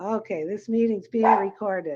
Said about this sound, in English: that's my dog Charlie barking because she sees someone